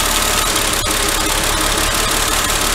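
2004 Mercedes six-cylinder engine idling with spark plugs removed and only some cylinders firing, a loud, close, continuous rough rumble with slight uneven knocking pulses.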